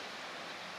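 A fountain waterfall on the downtown riverwalk in San Angelo, Texas, gives off a steady, even rush of falling water that fills the brief moment with no talking.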